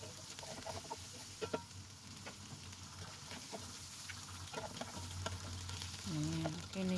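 Chicken liver sizzles and fries in a pan for chop suey, a steady crackling hiss close by with the scrape and clink of stirring, growing slightly louder toward the end.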